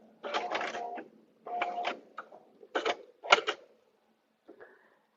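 Short bursts of a sewing machine taking a couple of back stitches to lock the seam on a paper-pieced butterfly dresser scarf, several separate quick runs with pauses between them, close and alone.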